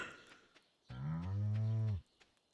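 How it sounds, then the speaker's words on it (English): A single long, deep cow moo in the farming video game Stardew Valley, loud and close, lasting about a second, with no talk. "I actually literally do love cows."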